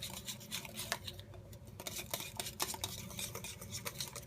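Whisk beating homemade tartar sauce in a bowl, a quick, continuous clatter of rapid metallic strokes, close and fairly quiet, with no talking.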